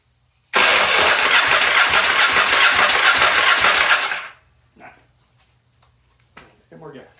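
A Yamaha XV920 Virago motorcycle engine with no spark cranks loudly on the starter for about three and a half seconds without catching, then stops, followed by quieter clicks and brief talk nearby.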